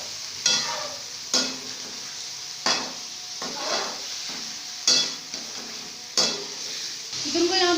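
Chicken frying with onions in a pan for biryani, a steady sizzle broken by repeated scraping stirs of a metal spoon against the pot, close and loud, with no talking.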